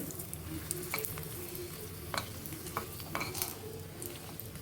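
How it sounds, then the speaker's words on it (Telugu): Red chillies fry in hot oil in a pan with a steady close sizzle, punctuated by occasional light clinks and scrapes of a utensil stirring. "ఆయిల్ వేసుకొని కారం సరిపడా మిరపకాయలు వేపుకోవాలండి"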